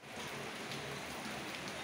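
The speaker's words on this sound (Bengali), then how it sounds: "দেখুন বাইরে কি রকম বৃষ্টি হচ্ছে" Heavy rain pouring down outdoors, a dense, steady hiss that stays even and unbroken throughout, with no voices over it.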